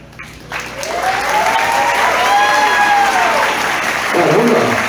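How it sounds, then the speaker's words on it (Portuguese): Wedding guests at Mansão Royal break into sustained applause for newlyweds Alexandre and Flávia after their first kiss, a broad steady roar of clapping with voices and music over it. "E todo mundo vai aplaudir com muita alegria essa nova família, Alexandre e Flávia."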